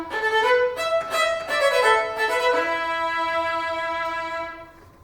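A solo violin plays the hero's task theme from a first movement, a sustained singing melody with a few changing notes that settles on one long held tone and fades out near the end.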